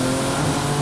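A 730hp Porsche 962 race car roars loudly and continuously at close range at Goodwood, a dense engine drone with no voices.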